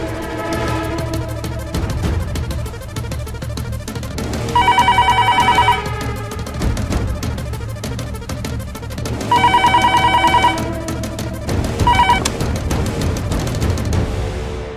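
A telephone rings repeatedly during an outgoing call, with loud trilling bursts in a regular on-off pattern over a steady ringback tone, with no voices.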